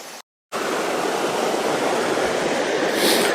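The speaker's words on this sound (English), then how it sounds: "So you can hear the water rushing by." Steady, close roar of rushing river water at Algar Falls, heard from a small bridge, broadband and continuous, after a brief moment of silence at the start.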